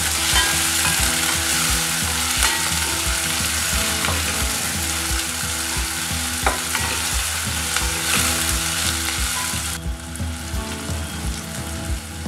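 Tomatoes, onions and chillies sauté in a pan for dal, a steady loud sizzle with frequent scraping stirs and clinks throughout.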